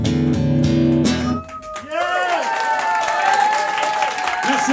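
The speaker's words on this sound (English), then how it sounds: "Then clap your hands and say yeah." Audience clapping along at a live club gig, crowd hands mixing with sustained music and a singing voice throughout.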